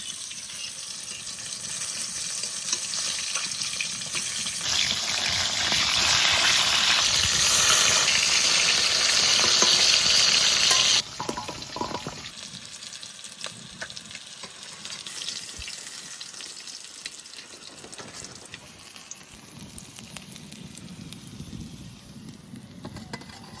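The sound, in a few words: rohu fish frying in oil, turned over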